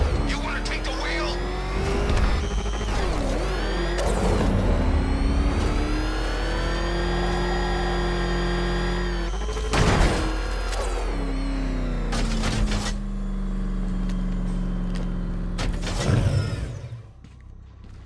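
Car engine in the video game Batman: Arkham Knight, a loud, steady drone that rises and falls in pitch as it revs, with sharp bangs and crashes breaking in and voices talking over it.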